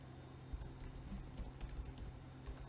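Faint, soft keystrokes tap on a computer keyboard while HTML code is entered, scattered and quiet against a low background hum.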